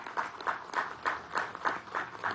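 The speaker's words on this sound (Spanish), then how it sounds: "vamos a darle un aplauso a Cilita" A crowd claps in a steady unison rhythm at a Venezuelan government event, the sound faint and distant, with regular beats repeating about three times per second.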